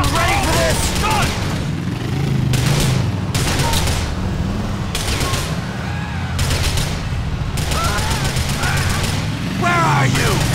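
Gunfire in the video game GTA The Lost and Damned: loud, repeated bursts of shots and rapid fire crackle in clusters across the scene, with shouting voices between and over the volleys.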